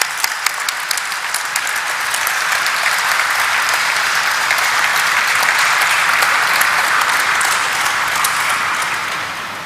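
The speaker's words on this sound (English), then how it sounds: "Let's have a huge round of applause, ladies and gentlemen" A crowd at a company's stock listing ceremony gives sustained applause, thick and even, loud throughout, rising slightly and then easing off at the end.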